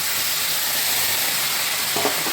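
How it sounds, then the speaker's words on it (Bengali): Cut vegetables tipped into hot mustard oil with fried whole spices for a Bengali chachra dish, giving a broad continuous sizzle with a sharper burst of crackling near the end. "আমার ফোড়নটা ভাজা হয়ে গেছে আমি তরকারিটা এবার ঢেলে দিলাম"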